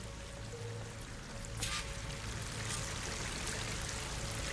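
Waterfall in the game Horizon Forbidden West, a steady broadband rush of falling water that holds constant, with a low hum and faint game tones underneath and no voices.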